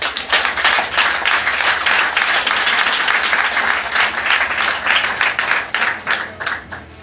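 Steady applause from a church congregation at a pastor's birthday celebration, many hands clapping loudly and continuously, with the clapping growing more uneven near the end.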